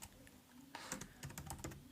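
Keys clatter on a computer keyboard as a terminal command is typed, a quick irregular burst of close, crisp clicks after a short quiet pause.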